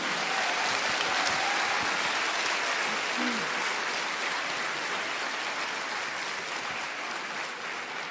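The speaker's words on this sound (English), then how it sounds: "Let's make a big, warm applause for Sadhguru and his team." A large audience at a Save Soil event in Azerbaijan gives warm, continuous applause welcoming Sadhguru, a dense even roar of clapping that fades slightly toward the end.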